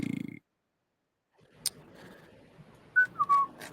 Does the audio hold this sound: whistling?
yes